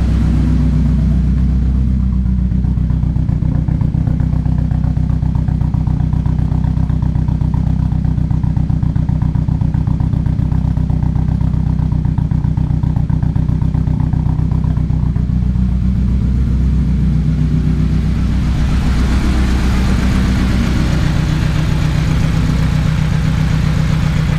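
A 2006 Chevrolet Cobalt SS engine runs steadily after a coil pack replacement, a loud, close, continuous low idle drone with a rise in hissy mechanical noise near the end, no voices.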